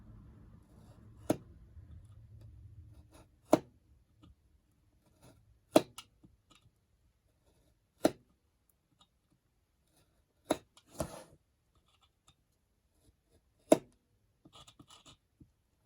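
Lace being cut for a craft project: sharp isolated snips spaced a couple of seconds apart against near silence, with faint rustling in between and no talk.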